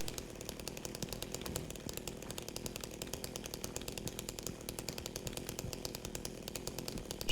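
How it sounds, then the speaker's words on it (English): A chainsaw roars continuously in the Silent Hill 2 Remake video game on PS5, a dense buzzing rasp with rapid rhythmic pulsing, steady and loud throughout with no talking. "Chainsaw makes this game pretty fun."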